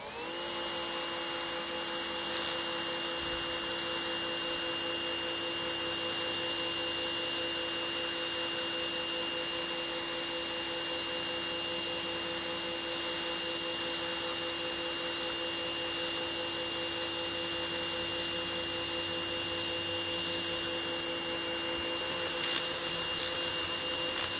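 An EGO 56V battery-powered pressure washer rated at 3200 PSI and 1.2 GPM runs continuously with a steady, loud electric motor and pump whine over rushing spray noise, with no speech.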